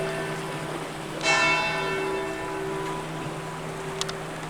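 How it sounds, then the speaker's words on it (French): Church bells of an old 15th-century church in Salies-de-Béarn, a sustained ringing tone rising suddenly and lingering over a steady background of a mountain torrent flowing from the Pyrenees; no talk. "je vous laisse écouter d'un côté les cloches de l'église et de l'autre le bruit de la rivière"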